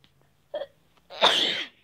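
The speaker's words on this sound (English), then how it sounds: "now I have to sneeze." A single sharp sneeze, close and fairly loud, preceded by a short intake of breath, then quiet.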